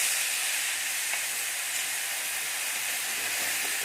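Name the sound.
whole spices and masala sizzling in hot oil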